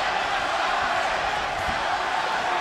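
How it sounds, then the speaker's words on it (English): A boxing arena crowd roars to urge a fighter on, a broad, steady wall of cheering and shouting voices that fills the space without letting up, with a few faint thumps beneath the din. "Again, the crowd tries to urge Arce on."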